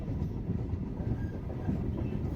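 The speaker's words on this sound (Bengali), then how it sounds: "ট্রেন ছেড়ে দিল, একদম ঠিক টাইমেই ট্রেন যাচ্ছে" A passenger train running on rails in rural West Bengal, heard from on board as a steady, loud low rumble with a rhythmic rattle of the carriage and no voices.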